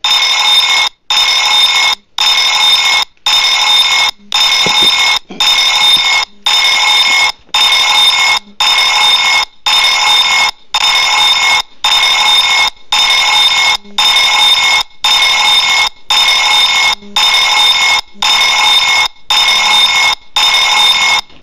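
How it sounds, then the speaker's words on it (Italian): A loud electronic alarm rings in steady repeated bursts, each about a second long with short gaps between, going on continuously with nothing else heard. "Ecco, ha suonato l'allarme."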